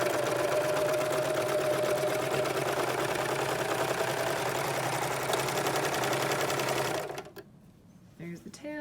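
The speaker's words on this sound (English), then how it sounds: "We want to keep our edge of our fabric right along the metal edge here and serge together." A serger runs steadily, overlocking two fabric edges into a seam, a loud close mechanical whir with a fast stitching rhythm that continues for about seven seconds and then stops, leaving a few faint handling sounds.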